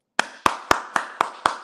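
Six evenly spaced sharp hand claps from a single person, crisp and close in a small room, each ringing briefly before the next.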